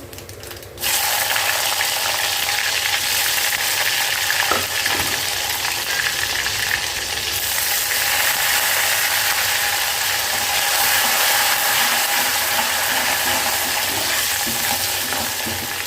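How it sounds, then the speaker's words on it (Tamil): Garlic with mustard seeds, cumin and fenugreek sautéing in a pan for a snake gourd pepper kuzhambu, a loud, dense, continuous sizzle and crackle that starts abruptly and holds steady with occasional stirring knocks, close and without talk. "பூண்டு நல்லா வதங்கி வரட்டும் பூண்டு வதங்கிடுச்சுங்க"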